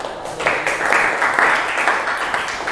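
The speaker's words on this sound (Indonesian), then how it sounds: "Tepuk tangan juga untuk semua kelompok ya" Applause from a classroom full of students clapping for all the groups, a steady, dense patter of many hands lasting a few seconds at close range, with no talk over it.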